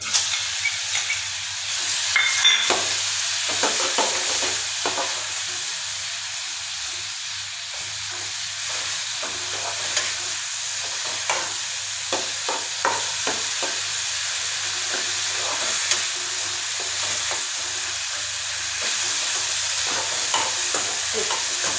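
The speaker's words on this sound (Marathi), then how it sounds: "तूप टाकून घ्या त्याच्यामध्ये हे केळीचे काप तळून घेऊया" Banana slices fry in ghee with a continuous close sizzle and hiss, broken by occasional spatula scrapes and light clicks as the pieces are turned. No one speaks.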